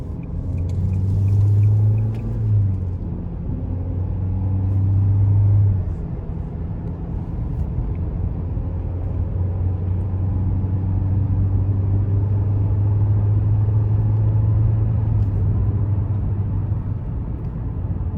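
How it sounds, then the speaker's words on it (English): Steady low engine and road rumble inside a 2021 Nissan Kicks SV on the road, a continuous droning hum that swells slightly as it accelerates, with no talking. "take this 2021 Nissan Kicks out on the road for a quick test drive"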